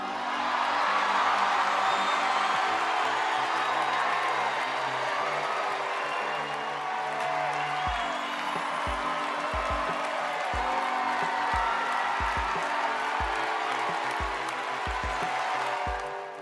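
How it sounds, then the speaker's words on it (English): Tony Awards audience in a large theater applauding and cheering, a dense sustained wash of clapping and whoops lasting throughout, steady and loud with a rhythmic low thumping entering midway. "The audience may have erupted in applause"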